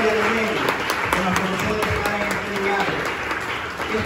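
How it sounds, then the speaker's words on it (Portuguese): A church congregation in Nicaragua applauds steadily and loudly throughout, a dense, continuous wash of clapping with voices faintly mixed in. "Le regalamos un aplauso al Señor porque Él es bueno"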